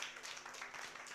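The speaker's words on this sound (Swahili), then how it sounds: "Wapigeni makofi." Brief round of audience applause at a youth entrepreneurship Sunday event, fairly faint and distant, a short burst of mixed clapping.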